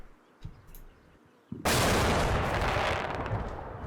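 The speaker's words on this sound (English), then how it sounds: "There was that loud explosion." A sudden, loud explosion bursts in about one and a half seconds into a Combat Mission: Cold War battle, its roar sustained and slowly fading, after faint scattered thumps and quiet background.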